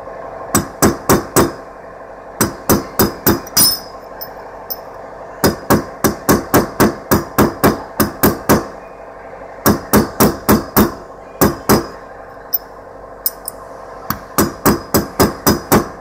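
Sharp metallic hammer strikes driving a front wheel bearing race into place on a 1966 Chevrolet Impala land in quick bursts of four to six blows, with short pauses between each run, loud and close.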